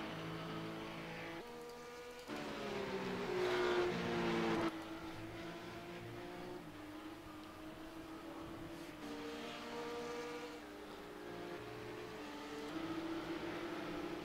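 Race cars lapping Monza in an iRacing Porsche Carrera Cup sim race, engines droning steadily with rising and falling revs as several cars run close together, continuous throughout without talk.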